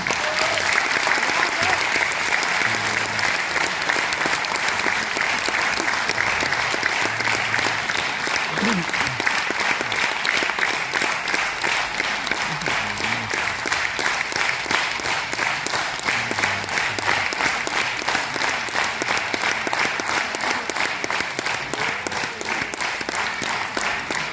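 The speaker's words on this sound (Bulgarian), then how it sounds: "Аплодисменти за Хайдашон Агасян" Audience applause at a centenary celebration of an Armenian church in Haskovo, a long, loud, even wash of many hands clapping with faint voices mixed in throughout.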